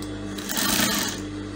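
Sewing machine running a straight seam on an Ankara fabric flounce skirt: a steady mechanical whir with rapid stitching rattle, close up, with no speech.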